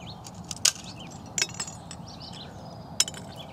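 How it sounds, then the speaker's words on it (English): Brittle pieces of carbonized sugar on cardboard clink together in three sharp, bright metallic ticks over a faint background hiss. "So these pieces here, the sugar, sound like metal."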